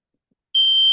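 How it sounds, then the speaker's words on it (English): A fire alarm sounds indoors, switching on abruptly halfway through and holding a loud, steady high-pitched electronic tone to the end. "y'all got a fire alarm going off or what?"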